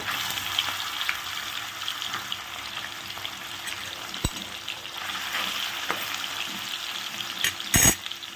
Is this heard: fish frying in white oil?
yes